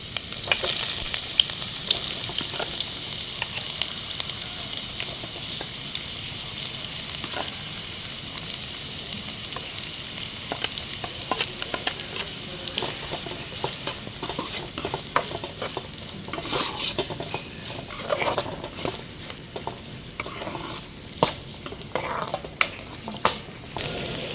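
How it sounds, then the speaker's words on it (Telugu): Thinly sliced onions frying in oil in a pan, with a continuous bright sizzle and frequent scraping, clattering stirs of a utensil against the pan, close and steady throughout. "ఉల్లిపాయ ముక్కలు చూడండి ఇలా సన్నగా కట్ చేసుకోవాలి వేసేసుకుని ఫ్రై చేసుకుందాం"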